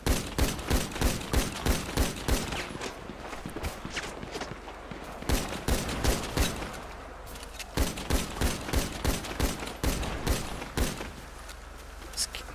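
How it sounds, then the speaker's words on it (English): Rapid video game gunfire in a shootout on a hillside, dense bursts of shots cracking almost continuously for several seconds with brief lulls, loud and close. "I'm getting shot from up top of the hill."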